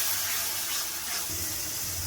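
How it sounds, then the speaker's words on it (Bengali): Rinse water from a mixing jar is poured into masala cooking in a pan for a prawn malai curry, giving a steady close splashing pour that runs unbroken for about two seconds. "মিক্সিং জার ধোয়া জল দিয়ে দেবো অল্প একটু।"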